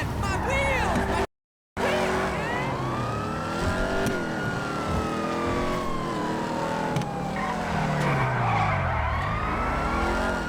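A classic sports car in GTA V, driven at night, revs and skids with sweeping engine pitch and tire squeal, loud and continuous, while a person talks over it, after a brief cut near the start.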